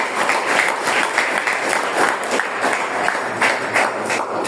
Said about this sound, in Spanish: palmas a Dios